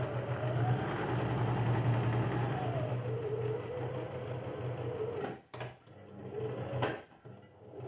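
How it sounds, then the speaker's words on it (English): A sewing machine runs steadily while lock-stitching the edge of a custom fitted sheet, a close continuous whirring hum that briefly stops and restarts near the end. "I'm going to back it off a bit here, just so that if we cut this shorter, we've got a lock stitch in there"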